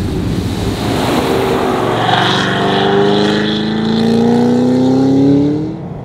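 Hennessey H1000 Cadillac sedan with a 650-horsepower engine and six-speed manual, warming up at steady idle, a continuous close engine drone with a slowly rising tone and no talk.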